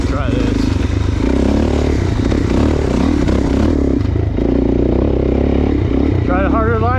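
Suzuki DRZ400 dirt bike engine droning loud and steady throughout as it climbs uphill off-road, with clattering and scraping mixed in and a voice talking over it.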